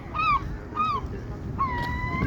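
New England seagulls squawk over Thai food outdoors, giving several harsh, nasal calls in short bursts, with one longer drawn-out cry over steady wind and background rumble.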